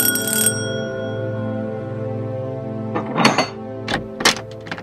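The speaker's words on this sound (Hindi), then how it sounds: "एक मिनट को घंटी बजी है, देखें।" A doorbell rings in a scene from an Indian TV serial: a bright chime at the start fades into a lingering tone, followed by a few sharp knocks or thuds.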